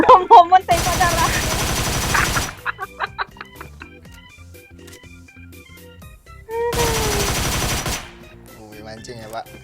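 Bursts of gunfire in the mobile battle royale game PUBG Mobile, two sustained loud volleys of rapid automatic shots separated by scattered single shots and game sounds, with no talking.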